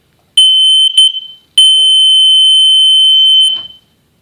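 A household smoke detector in continuous mode blares a piercing, very loud electronic tone: two short beeps, then a long sustained shriek lasting about two seconds before cutting off. No one speaks.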